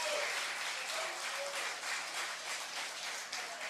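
Audience applause greeting Alabama Crimson Tide head coach Nick Saban as he arrives at a stage event, a sustained, fairly distant wash of clapping at an even level throughout.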